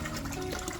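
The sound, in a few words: water poured from a hose into a baby turtle pond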